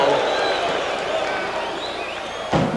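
Wrestling arena crowd at a Boston Garden house show reacting to a low blow, a broad, steady roar of murmuring and jeering voices that swells briefly near the end, heard alongside commentary.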